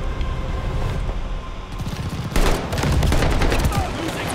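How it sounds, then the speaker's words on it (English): Video game gunfire from Call of Duty: Vanguard played on Xbox Series X, starting as a steady low rumble and breaking into dense, loud bursts of rapid shots in the second half, with a voice briefly heard. "I just hear shooting."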